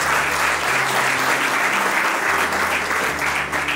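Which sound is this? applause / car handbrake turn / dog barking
applause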